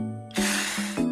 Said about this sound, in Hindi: इसके ऊपर ऐसे पानी स्प्रे करते हैं